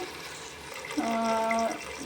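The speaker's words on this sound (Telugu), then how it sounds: "3 గ్లాసుల వాటర్ వేసుకోండి" Water pours steadily into a pot of rice for just under a second, close by, its pitch rising as the vessel fills.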